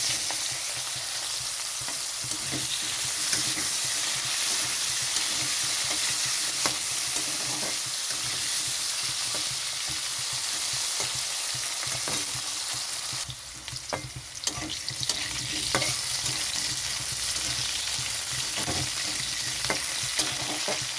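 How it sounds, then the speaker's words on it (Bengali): Potato pieces with black cumin seeds and green chili sizzle steadily in hot oil, close up, with repeated clinks and scrapes of a spatula stirring the pan and no voices. "এখানে আমি দিয়ে দিচ্ছি আলু"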